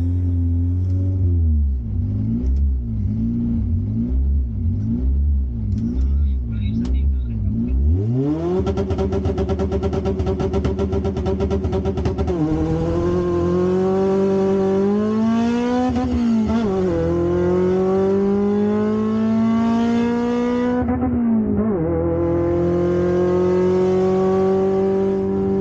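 Honda Civic race cars at a drag race, a close engine idling with rhythmic pulsing, then a loud rev and a sustained high-pitched acceleration through several gear shifts, no talk.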